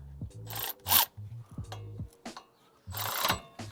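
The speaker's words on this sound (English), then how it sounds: "And I have my electric ratchet right here." An electric ratchet loosens a 22 mm bolt on the control arm of a 2004-2008 Ford F-150. It gives several short, rasping bursts of mechanical whirring with brief pauses between them, close up.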